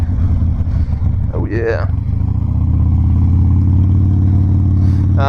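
Harley-Davidson Dyna Low Rider motorcycle riding, a steady, loud low engine drone throughout, with a rider's voice briefly heard over it.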